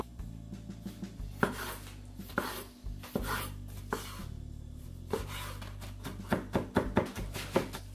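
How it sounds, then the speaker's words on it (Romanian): Tomatoes are chopped finely with a knife on a board, giving a close series of irregular sharp knocks and taps that quicken into rapid strokes toward the end, with no talking. "Tocăm și roșiile mărunt."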